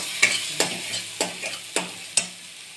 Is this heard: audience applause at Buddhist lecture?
no